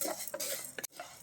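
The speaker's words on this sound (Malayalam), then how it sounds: "ഇതും കൂടി ചേർത്തിട്ട് വേണം ഇനി നമുക്കൊന്ന് വറുത്തെടുക്കാം" Urad dal and black pepper are dry-roasted in a pan over low heat, with brief scraping and stirring clinks of a spoon against the pan in a short, quiet burst.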